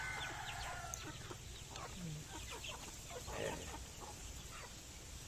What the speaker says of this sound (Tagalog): Mga manok ni Papa.